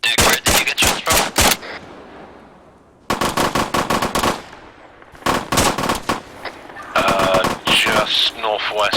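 Bursts of rapid gunfire during a night rifle event: several loud automatic volleys of sharp, closely spaced cracks, separated by brief pauses, with some talking mixed in.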